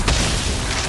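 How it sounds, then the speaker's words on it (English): A turret explosion in the Mobile Legends video game, heard as one loud, booming burst with a deep low rumble that sustains steadily through the short moment, with no talk. "Our turret has been destroyed."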